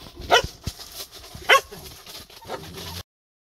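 Dogs outdoors at a rural campsite on a cold morning bark in a few sharp, loud bursts, mixed with softer yips and whimpers between the barks.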